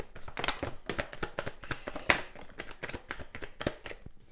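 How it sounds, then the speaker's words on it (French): Tarot cards are shuffled by hand in a quick, steady run of crisp riffling flicks and soft slaps, close and fairly even, with one sharper snap midway and no talking. "On va tirer quelques cartes du tarot."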